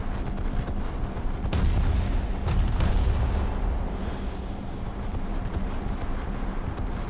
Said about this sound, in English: Oh, my AI gunners are going at it.